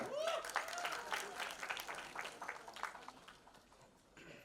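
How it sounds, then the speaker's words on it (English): Faint, scattered clapping from an audience at a Bollywood film promotion event, a brief burst under a voice that fades unevenly toward the end. "ladies and gentlemen can we have a big round of applause for Satyaraj sir"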